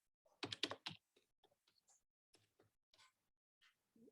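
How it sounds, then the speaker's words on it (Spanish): Someone types a password on a computer keyboard: a quick burst of close, crisp keystrokes, then sparser single clicks spaced out, all quiet against near silence. "Voy a poner mi contraseña."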